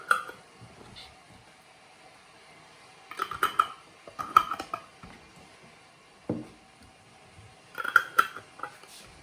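Sterilized metal lids closed onto glass jars of homemade zucchini caviar: quiet scattered clinks and short twisting scrapes in a few separate bursts, with still pauses between them and no talking.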